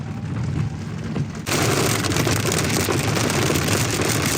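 Heavy rain pours down around a Rivian R1S electric SUV on a road trip, a dense, loud hiss of rain on surfaces that becomes stronger and fuller after the first second and a half.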